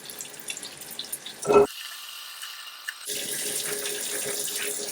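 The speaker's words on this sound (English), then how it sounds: "You want to make sure you got good flow with your water as well." Running water flushes steadily through a 2000 Ford F-350 body section, with a brief louder splash partway through, then the flow resumes stronger and fuller, close by.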